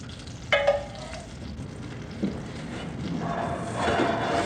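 Butter sizzles in a pan as it browns to beurre noisette for a Christmas turkey, a gentle frying hiss that swells toward the end, preceded by a sharp clink and a dull thud.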